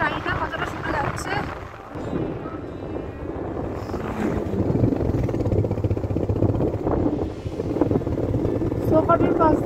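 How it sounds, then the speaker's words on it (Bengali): Strong wind roars across a high mountain road in Ladakh, on the Leh–Manali highway stretch between Hanle and Pang, a loud, continuous buffeting rush close to the microphone with a voice talking underneath. "প্রচন্ড হাওয়া দিচ্ছে, জানি না কতটা শোনা যাচ্ছে।"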